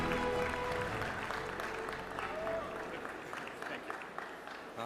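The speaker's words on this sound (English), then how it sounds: "Let's give them a big round of applause." Audience at an entrepreneurship competition final applauding award winners, a sustained wash of clapping from a large crowd that holds steady and slowly fades slightly, with some voices mixed in.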